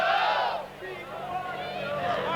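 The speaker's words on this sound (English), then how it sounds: "Part of the crowd in one of the grandstands there, quite vocal, even for this early in the meeting" A vocal crowd roars and chatters in a grandstand at the 1989 Australian Long Track Grand Prix speedway meeting in Bathurst, a loud, steady mass of cheering voices that dips briefly and then swells again.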